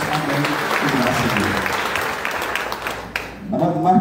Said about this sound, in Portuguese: Oramos, abençoamos e aplaudimos o Senhor na vida delas em nome de Jesus